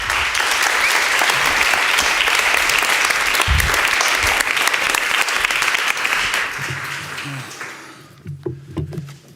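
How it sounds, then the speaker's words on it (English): Warm audience applause at a European literature night, loud dense clapping from a full room that fades out near the end, followed by a voice beginning to speak. "Can I have a warm applause?"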